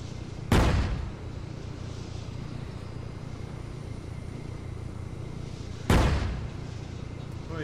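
Two sharp gunshots ring out in an Arma military game battle, one early and one near the end, each a loud distant crack with a rolling echo over a steady low ambient rumble.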